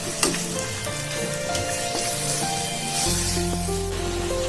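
Ginger garlic paste sizzles with onions in a pan for karahi mutton gravy, a steady loud frying hiss with stirring scrapes, growing denser partway through.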